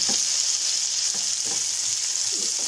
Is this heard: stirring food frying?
yes